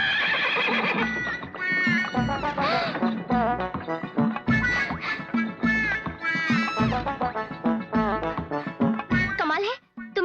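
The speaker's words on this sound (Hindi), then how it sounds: "तुमने सीटी बजाई और घोड़ा उल्टे पाँव आ गया।" A horse whinnies and neighs amid loud film music and busy dialogue-like sounds, with clip-clop hoofbeats suggesting the animal trotting back, all under a dense, continuous mix.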